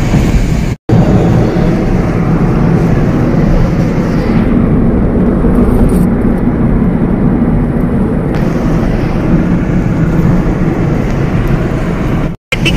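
Continuous loud traffic rumble and road noise from vehicles rolling across a bridge, steady throughout with a brief dropout near the start and end.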